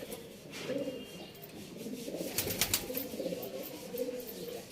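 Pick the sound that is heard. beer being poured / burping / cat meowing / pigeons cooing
pigeons cooing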